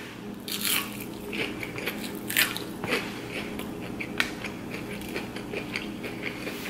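Crispy fried shrimp is bitten and chewed close up, with repeated sharp crunches in an irregular rhythm, followed by softer wet chewing between bites and no talking.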